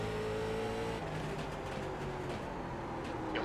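A damaged late model race car at Lanier in the iRacing NASCAR Late Model Series, its engine holding a steady high drone before easing off the throttle, with faint tire scrub and other cars buzzing nearby.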